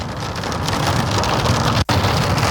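Heavy rain drums steadily and loudly on a Mercedes car body while driving, a dense continuous downpour broken by one brief dropout, with no voices.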